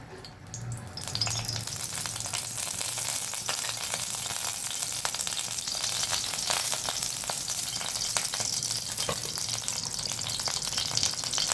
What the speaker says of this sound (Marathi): इकडे आपण पॅन गरम करायला ठेवला आहे त्यात तेल टाकूया